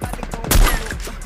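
A single loud Barrett sniper rifle gunshot in a video game, with a booming low thump cutting through faint background clatter and a brief echoing tail.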